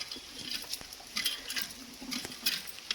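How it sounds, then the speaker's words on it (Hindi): Rain pattering on a rainy monsoon day, faint scattered drips and taps in irregular bursts, close and quiet with no talking. "बरसात हो रही है अभी"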